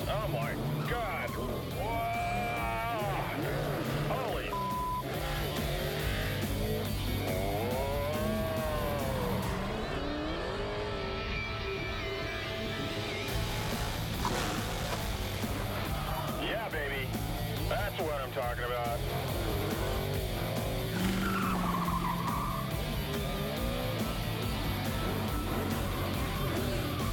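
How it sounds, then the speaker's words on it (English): A drift car slides around in San Francisco, its engine roaring steadily and tires scrubbing throughout, while people talk excitedly over the continuous noise. "That's a little taste of a drift car"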